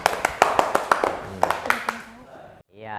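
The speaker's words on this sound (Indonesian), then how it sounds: "Ayo kasih tepuk tangan." Classroom applause from fourth-grade students after a group presentation: a short burst of rapid, uneven hand claps at close range that fades within about two seconds, followed by a teacher speaking.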